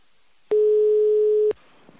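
A single telephone line tone sounds for about one second, steady and clear, then stops abruptly, alone in a quiet background.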